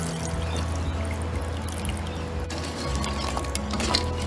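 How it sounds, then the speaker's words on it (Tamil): Second coconut milk poured into crab curry simmering with masala in a pan, a continuous liquid gush over a low background with a few small clinks. "இப்போ செகண்ட் கோகனட் மில்கை ஆட் பண்ணி நண்டை வேக விட்டுக்கலாம்."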